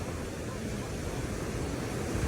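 Strong surf rolling onto White Beach in Boracay during the habagat monsoon season, a steady broadband roar of waves mixed with wind buffeting the microphone, continuous and fairly loud with no distinct break.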